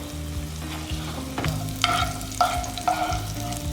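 Cubes of paneer sizzle in hot oil in a pan, a close, steady frying hiss broken by a few sharp clinks and scrapes as a utensil scoops them out.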